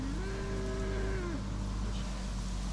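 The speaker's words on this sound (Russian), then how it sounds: "Фермер сейчас привез коров. Новую расу какую-то, итальянскую." Cow of a new Italian breed moos once, a long drawn-out low call on a farm near a German village, heard fairly close over steady outdoor background noise.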